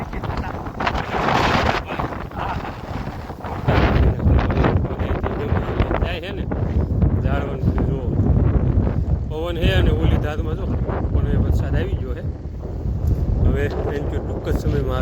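Strong wind during a summer storm buffets the microphone in loud, rumbling gusts while a person talks through it.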